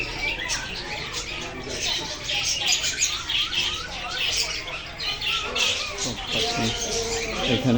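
Assorted birds squawk and chirp densely at the Dewanhat bird market in Chittagong, a busy crowded chorus with market chatter and voices in the background.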